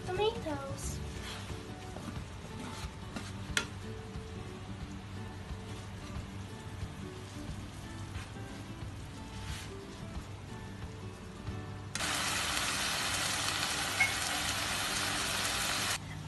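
Picadillo of Filipino style, beef with tomatoes, frying in a pan, a steady soft sizzle and crackle that swells into a brighter, louder hiss near the end as the tomatoes go in; voice talk is mixed throughout.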